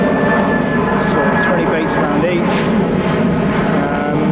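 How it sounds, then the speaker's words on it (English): An airplane flying overhead at a carp fishing lake, a loud, steady engine roar filling the whole stretch while someone talks over it. "excuse the plane"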